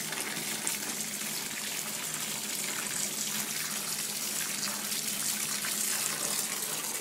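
Steady rush of running water pouring into a tub, a continuous broadband gush with no voices.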